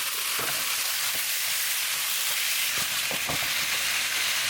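Meat hitting an oiled pan with garlic and sugar for a jalapeño ginger pork stir-fry, giving a steady, loud sizzle with crackling pops and stirring scrapes, close up and without talk.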